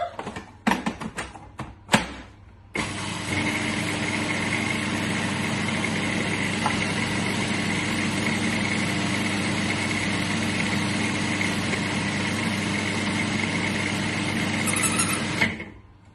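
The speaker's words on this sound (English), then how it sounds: "Now we're just going to give these a whiz in the food processor." A food processor whizzes quinoa cracker ingredients: a few knocks and taps first, then a steady, loud motor whir for about thirteen seconds that cuts off abruptly.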